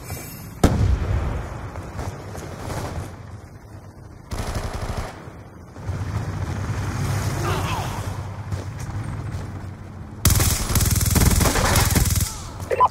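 Explosions and gunfire from a sticky grenade fight in Black Ops II Kill Confirmed mode, with bursts of shots and blasts coming and going over continuous battle noise and a loud eruption near the end.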